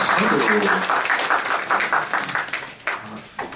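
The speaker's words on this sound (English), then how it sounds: "Maybe one more round of applause to my two guest panel speakers." An audience at a state jobs workshop gives a round of applause for panel speakers, with clapping in bursts that thin out and fade over a few seconds.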